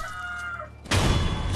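A chicken clucks in Sekiro, with short raspy calls at first, then a sudden loud crashing burst of combat noise that takes over the rest of the moment, with no talk.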